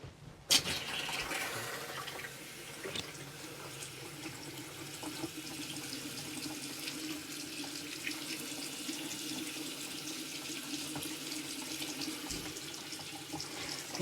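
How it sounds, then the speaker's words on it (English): Water runs steadily from a tap in a vintage 1957 Airstream trailer, a continuous hissing gush that starts abruptly and holds at an even level throughout. "Let's turn on the water."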